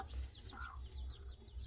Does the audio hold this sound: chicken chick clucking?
yes